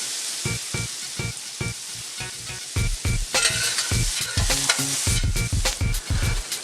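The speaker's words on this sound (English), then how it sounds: "Add half of a diced white onion. I'm gonna break that up. And let that saute." Half a diced white onion sautéing over medium heat in a cast iron skillet, a continuous sizzle broken by repeated rhythmic scrapes and stirs of the pieces, close up with no voices.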